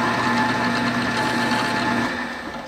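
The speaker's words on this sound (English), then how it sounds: "So I've got a 1/4 inch Forstner bit in here, same diameter as the head of our rivet." A 1/4 inch Forstner bit cuts a shallow countersink for a rivet head in trivet pieces, a steady, loud whirring drone held for about two seconds before tapering off.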